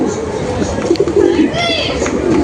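Several Madras pigeons coo close by in a loft, soft rolling calls rising and falling over a steady background while someone talks intermittently.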